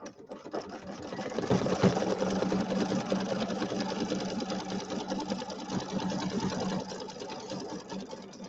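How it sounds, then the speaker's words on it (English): An embroidery machine stitching satin stitches around a small spider design on a Halloween settee pillow: a fast, steady mechanical whir and rattle running close and alone throughout. "now it's going to do the satin stitches around the little spider"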